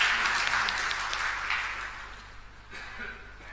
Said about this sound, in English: A big welcome and applause to you all.